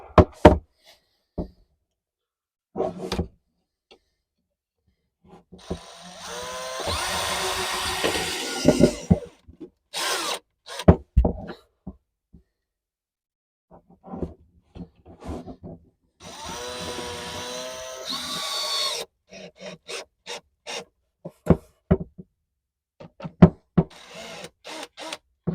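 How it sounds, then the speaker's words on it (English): A power drill whirs in two bursts of a few seconds each, driving screws into a cabinet, close and loud, surrounded by sharp knocks and clunks of handling and tapping. "just going to get a couple of screws put in here inside the cabinet"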